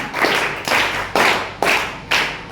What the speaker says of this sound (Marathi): सगळेजण तर पाच पाच टाळ्या वाजून स्वागत करूयाच